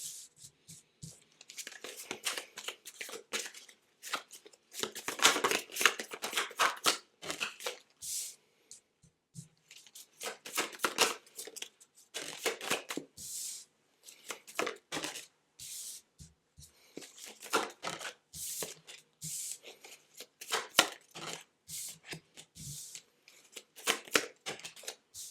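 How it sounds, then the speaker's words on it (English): Tarot cards are shuffled and handled up close, with repeated riffling and sliding bursts in irregular clusters, crisp papery flutters broken by short pauses. "let me just get the other tarot cards and see what it's saying here"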